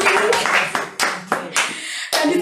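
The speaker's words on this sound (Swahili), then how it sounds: "kanisa tupigie mama taifa makofi mazuri" A church congregation claps together at a gospel service, short bursts of clapping that rise and fall in waves, loud and close, with some voices mixed in.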